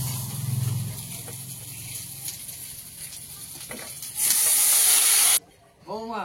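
Water hits a hot pan of fried spices and potatoes in a home kitchen, starting with low frying crackle and rising into a loud, sustained steaming hiss that cuts off abruptly, followed by a brief faint bubbling.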